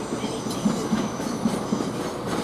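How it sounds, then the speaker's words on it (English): A Southern passenger train arrives at Ashford International station with a steady, close rumble and faint rhythmic wheel clicks over the rails. "we've got another train coming in"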